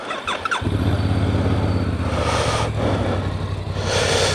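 A Voge R625 motorcycle cranks briefly, then its engine catches and settles into a loud, steady idle close by, with no talking.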